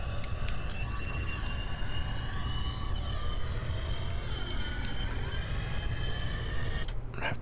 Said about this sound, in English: Let's try out this plane.